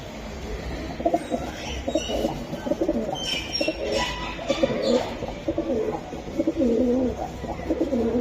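Giribaz pigeons coo in a loft, a busy layered chorus of soft throaty cooing that keeps going close by with no speech.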